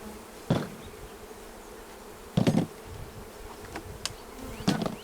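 Honeybees hum faintly at a hive installation after smoke is applied, a low continuous buzz broken by a few brief louder knocks and rustles close by.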